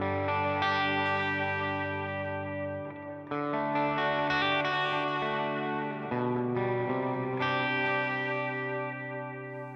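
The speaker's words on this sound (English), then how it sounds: "we'll let you hear the guitar tone that we have right now. This is just amp, delay," Sustained electric guitar chords played through an HX Stomp amp model with heavy delay and reverb, three strummed chords each ringing out into a long wet echo tail, alone with no talking.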